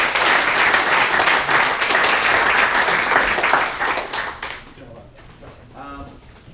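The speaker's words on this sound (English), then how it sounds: "I just want to give a great big round of applause to Dr." An audience at a technical talk on NoSQL databases applauds the speaker with dense, loud clapping for about four seconds. The applause then thins and fades out, and a voice sounds faintly at the end.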